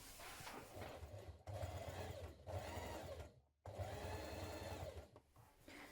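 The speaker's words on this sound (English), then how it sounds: "you're going to top stitch down either side of this button placket" A sewing machine runs in four steady bursts with brief pauses between them while top stitching along both sides of a shirt's button placket, a close whirring hum.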